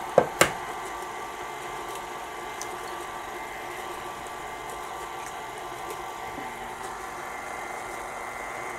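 A mixer creams butter and sugar for candy corn cookie dough with an egg added, a steady low motor hum running throughout after two sharp knocks at the start, with no talking.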